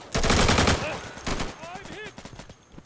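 Loud rapid gunfire from a sniper-map fight in the shooter Insurgency, a dense burst at the start followed by a few separate shots, with someone talking over and between them.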